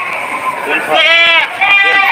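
Goats at a livestock market bleat loudly in two wavering calls close by, with people talking over them.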